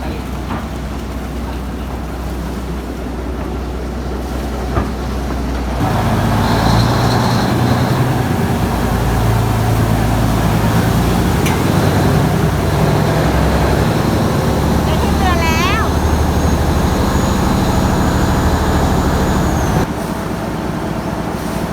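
A passenger boat engine drones steadily and loudly on a river ride from Hua Chang pier in Bangkok, with people talking over it.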